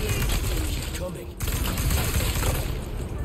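CQBR assault rifle fire in the Resident Evil 4 Remake, dense rapid bursts of shots over game ambience, with a brief break partway through before firing resumes.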